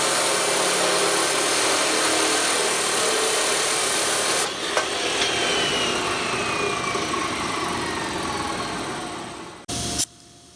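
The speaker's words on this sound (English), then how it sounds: "it's always good to deburr the edges of your material" A steel bar being deburred with a hand file in a forge shop, steady rasping strokes that run loud and close for several seconds, then a brief clatter before the scraping fades near the end.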